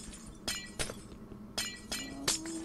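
Glass shattering in the Minecraft video game: several sharp, bright breaking crashes come one after another at uneven intervals over a low steady hum, with no talking.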